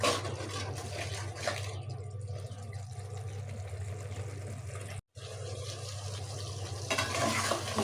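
Chicken sizzles and hisses in a pan with occasional stirring scrapes, a steady low hum underneath, no voices.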